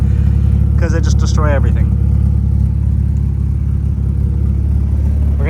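A BMW E46 sits idling, its exhaust a loud, steady low rumble that holds evenly throughout, with someone briefly speaking over it near the start.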